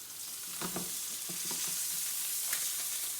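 A thick salmon fillet searing in a hot pan gives a constant, near sizzle with occasional faint spatters and soft movement sounds, and no speech.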